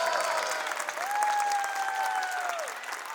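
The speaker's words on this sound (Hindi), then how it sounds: "एक बार इनके लिए जोरदार तालियां।" An audience at a Republic Day celebration applauds a dance choreographer with a steady wash of clapping, while a sustained tonal sound runs alongside it.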